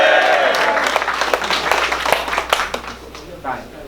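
Crowd at a Filipino rap battle applauding and shouting, a loud continuous wash of clapping with scattered sharper claps, steady throughout then slightly thinning near the end.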